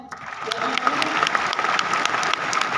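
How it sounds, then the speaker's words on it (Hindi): Crowd applause at a social media growth conclave in Talkatora Stadium, a large audience clapping loudly and steadily in a big reverberant hall with sharp individual claps standing out. "एक बार तालियां हो जाए।"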